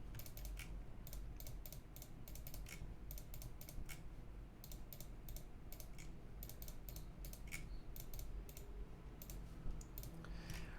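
Quiet, rapid keystrokes on a computer keyboard come in uneven clusters of crisp clicks, typing a command with short pauses between bursts.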